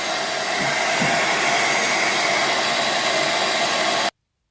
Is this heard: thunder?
no